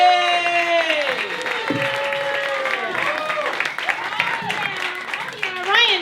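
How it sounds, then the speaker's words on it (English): A comedy club audience claps and cheers for a comedian, dense steady applause filling the room with whoops over it, while a voice talks over the clapping. "Thank you for that applause."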